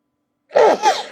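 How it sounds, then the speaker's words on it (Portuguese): A single sharp human sneeze bursts out loud and close after half a second of silence, with a strong onset and a short trailing second puff, during a talk on a biblical subject. "quando eu começo a espirrar,"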